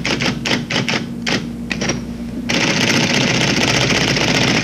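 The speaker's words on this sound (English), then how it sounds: "Since the syntax is a nil attic function, I merely have to type schedule." Keystrokes on an APL computer terminal keyboard clack in a handful of separate, evenly spaced taps, then give way to a steady mechanical whirring chatter, close and fairly loud, with no talking over it.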